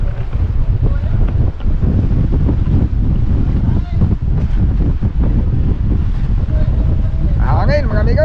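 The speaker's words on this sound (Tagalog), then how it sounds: "Hangin mga amigo." Strong wind blows at sea over a fishing boat, a loud continuous roar buffeting the microphone, with a person talking faintly underneath near the end.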